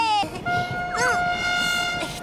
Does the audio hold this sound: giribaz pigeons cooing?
no